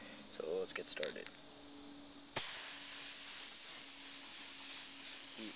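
Spray paint hissing onto a plastic Nerf blaster in a base coat, a steady continuous spray starting abruptly after a few light handling clicks and rattles, then running without a break to the end.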